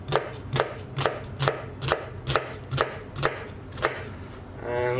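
A knife finely chopping a brown onion on a board, about a dozen crisp, evenly spaced chops close up, with no one talking.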